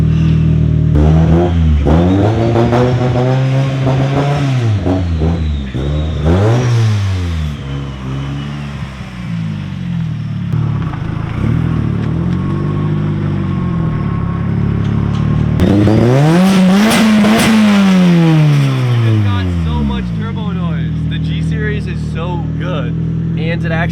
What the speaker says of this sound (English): It's a little bit louder than I usually like for a street car, but from the downpipe back, it is full titanium exhaust.